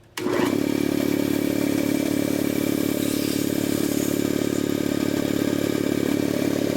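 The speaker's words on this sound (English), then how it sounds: "I'm going to turn this machine on and let it build pressure" A Jenny air compressor with a failed pilot valve kicks on abruptly and keeps running with a loud, steady droning hum and faint clatter, building pressure with no talking.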